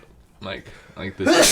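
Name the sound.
sneeze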